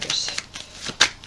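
Vera Sibilla cards shuffle briefly in the hands, giving a quick run of close papery flicks that ends with a sharper snap, with no words spoken.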